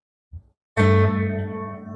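A single electric guitar chord rings out after a faint pick noise, sustaining with a wide, spacious big-hall reverb tail that slowly fades.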